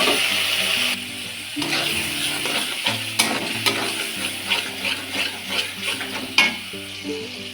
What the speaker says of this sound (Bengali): এইবার তেলের মধ্যে পেস্ট করে রাখা মশলা দিয়ে দেব।